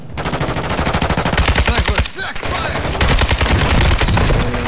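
Rapid automatic gunfire from the tactical shooter Clutch Up Air Strike: loud, close bursts of machine-gun fire that hammer almost without a break, with a brief lull midway before the shooting resumes.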